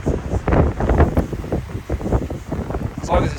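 Wind gusting across a mountain trail on the Three Fingered Jack Loop along the Pacific Crest Trail, a steady buffeting rumble against the microphone that swells and eases without a break.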